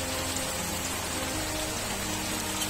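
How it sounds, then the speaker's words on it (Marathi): Steady rain falls outside during a monsoon downpour, a dense, even hiss with no break and no voices. "पाऊस बाहेर पडतोय."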